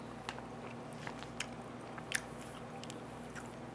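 Bites into crunchy roasted chicken skin give a few sharp crackles, then quieter chewing close to the mic, with no talk.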